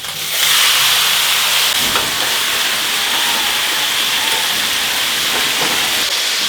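Cognac poured over searing lamb in a hot pot for a flambé gives a loud, steady steaming hiss that bursts up at the start and holds close and continuous throughout.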